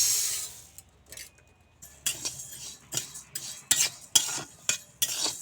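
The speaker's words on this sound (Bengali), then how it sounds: "এখন নেড়ে চেড়ে ভালো করে মুগ ডাল ভেজে নেব।" Moong dal being dry-roasted and stirred in a wok, with a series of sharp scraping and clinking strokes of a utensil against the pan in an irregular rhythm, close and fairly quiet, with a faint sizzle beneath.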